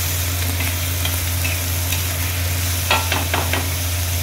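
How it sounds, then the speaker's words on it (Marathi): Finely chopped tomatoes fry in oil in a pan over lowered heat, giving a steady, close sizzle broken near the end by a few quick stirring scrapes. "टमाटर आपण तेलामध्ये फ्राय करायचे।"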